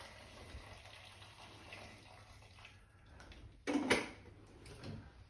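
Boiling water poured from a kettle over a whole chicken in a pot to make Chinese takeaway-style stock, a brief close gush of liquid rising near the end after quieter kitchen background.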